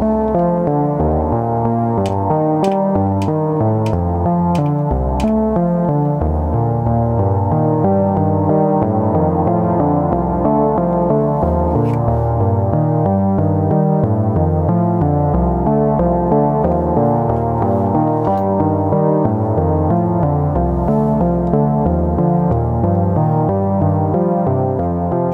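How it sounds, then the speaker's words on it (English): A continuous Moog Model D synth sequence with layered notes smeared by repeating, tape-style echoes, played steadily and fairly loud throughout. "Bit of tape delay."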